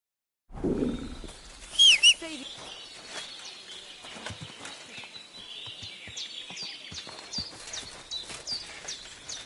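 Horse hooves clip-clopping in Kingdom Come: Deliverance II, a series of crisp, fairly close hoofbeats in an uneven walking rhythm, with birds chirping in the background and no talk.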